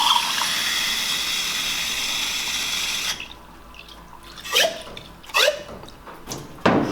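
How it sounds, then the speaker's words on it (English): Water gushes steadily into a tumbling barrel filled with ceramic media for about three seconds, then stops, followed by a few sharp clanks and knocks of handling. "Just to add some water now."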